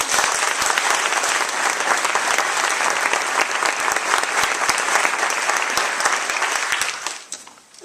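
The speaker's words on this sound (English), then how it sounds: "If you give them all our claps." A large audience at a senior awards evening applauds the music department after a concert programme, a dense, sustained wash of clapping that fades out near the end.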